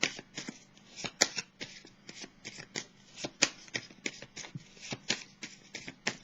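Tarot cards are shuffled by hand in a quiet room, a close run of crisp riffles and soft slaps in an uneven rhythm, with no voices.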